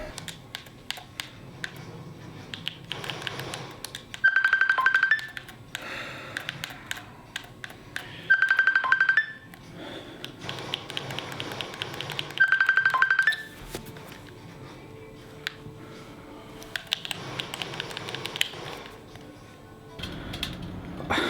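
A phone rings unanswered in a quiet room, four repeated bursts of electronic ringing spaced a few seconds apart, with faint clicks and mechanical rustles in between.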